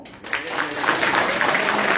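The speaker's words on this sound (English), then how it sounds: "And even if you clap another time," Audience clapping swells after a short quiet start at a devotional singing awards function, building into steady applause with some voices mixed in.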